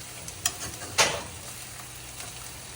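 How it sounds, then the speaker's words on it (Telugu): Bitter gourd curry fries in a pan after crushed garlic and chili powder go in, giving a low steady sizzle with a couple of sharp stirring scrapes, close by with no talking. "దంచుకున్న వెల్లుల్లి కారంని ఇప్పుడు మనం ఈ కూరలో వేసేసుకొని ఇలా కొద్దిసేపు కలిపేసుకొని ఫ్రై చేసేసుకుందాం."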